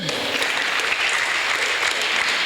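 A church congregation bursts into loud, dense applause and cheering during a Sunday sermon, continuous and close for a couple of seconds.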